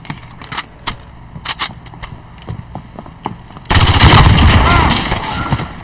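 Call of Duty: Modern Warfare gameplay with sharp, spaced gunshots cracking one after another, then a sudden dense burst of loud, sustained gunfire.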